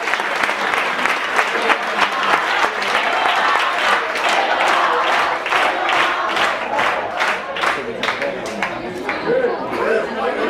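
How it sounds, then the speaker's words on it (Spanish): An audience at a Jesus Christ Superstar stage show breaks into sustained, loud applause, dense clapping with crowd chatter and a few shouts mixed in, lasting throughout. "Un aplauso."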